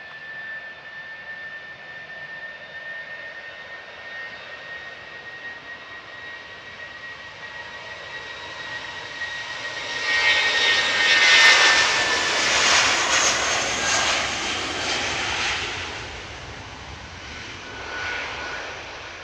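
A British Airways airliner departs Manchester bound for Heathrow, its jet engines roaring steadily with a high whine that swells to a loud peak as it passes, then fades slightly into the distance.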